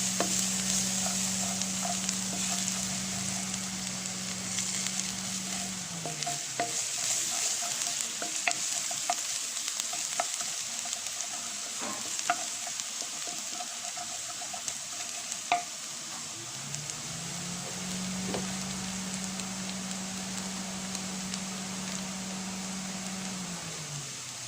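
Garlic and blanched string beans sautéing in a pan for adobong sitaw, a steady close sizzle with a low hum that fades out mid-way and returns, with occasional stirring scrapes.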